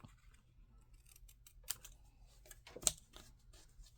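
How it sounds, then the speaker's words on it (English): Scissors make a few quick, faint snips while cutting paper for a handmade card, quiet and close in a calm room, with no talking. "Do a little snip."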